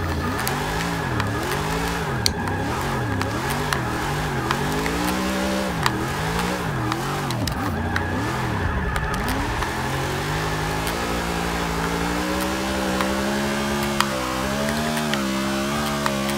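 A 2016 Chevrolet #4 NASCAR race car with a rear-wheel-drive drift tune in a simulation game: a loud engine rising and falling through repeated revs, then holding a steadier climbing pitch, alone without talk.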